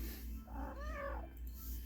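Cat giving a single drawn-out meow, rising and falling, close and fairly quiet over a low background hum.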